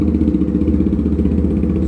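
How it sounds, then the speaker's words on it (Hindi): A Jawa 42 Bobber motorcycle fitted with an aftermarket uplift exhaust idles just after a cold start, making a loud, steady, close-up engine thump with a fast, even pulse and no talking. "ये है कुछ साउंड आइडल पे, अभी कोल्ड स्टार्ट करी है"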